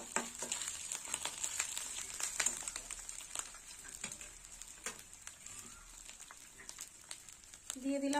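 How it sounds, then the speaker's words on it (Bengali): Pigeon pea dal poured into a hot pan of fried tempering spices, with a steady sizzle and crackle, scattered stirring clicks and a louder burst near the end. "দিয়ে দিলাম ডাল।"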